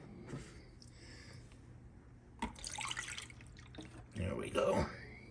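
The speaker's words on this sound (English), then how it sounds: "Let's put some water in it." Water poured into the reservoir of a Keurig coffee machine, a couple of brief splashing, trickling bursts with small drips between them, quiet and close, amid soft handling noises.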